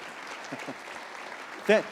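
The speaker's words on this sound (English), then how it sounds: "Big round of applause for them." An audience applauds two guests at the close of a talk session, a steady, moderately loud patter of clapping across the short span, with a brief louder vocal burst near the end.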